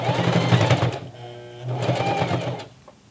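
A sewing machine fitted with a denim needle stitches across a thick seam on the leg hem of Levi's 550 jeans, running in two loud bursts with a short slowdown between them as it climbs the seam.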